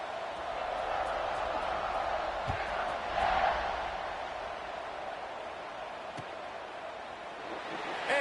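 A football stadium crowd roars at kickoff, a broad, sustained wash of cheering that swells briefly mid-way and stays loud beneath a commentator's voice.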